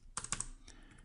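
A handful of quick keystrokes on a computer keyboard while entering JavaScript code, a brief cluster of close, light clicks that then tail off into quiet.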